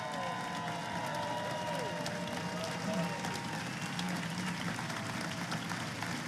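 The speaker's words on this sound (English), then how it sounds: "let's give them all a big round of applause" Audience applause fills a live seminar hall, a steady, dense wash of clapping and cheering that holds at an even level throughout, with voices mixed into the crowd noise.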